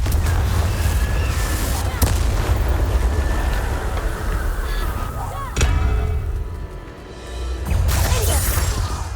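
Confringo fire spells in the video game Hogwarts Legacy burst as several loud, crackling explosions spaced a few seconds apart, over a dense roaring background with some voices.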